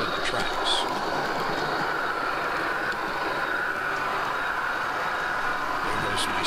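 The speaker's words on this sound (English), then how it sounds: "There goes my subway." An HO scale model subway train rolls along layout track with a steady, dense rumble and clatter that stays close and even throughout, with no pauses.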